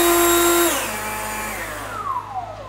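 Milwaukee M18 single-battery blower, a loud whine that winds down as the motor slows, its pitch sliding lower over a couple of seconds, with no voices.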